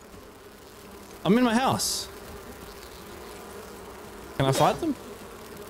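A swarm of bees in the video game Enshrouded gives off a low, steady buzz under a voice as he talks twice in short bursts.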